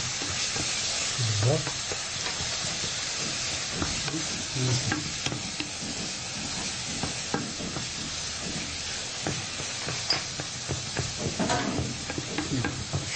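Food frying in a pan is stirred, giving steady close sizzling and hissing with scraping stirring strokes throughout and a brief spoken word.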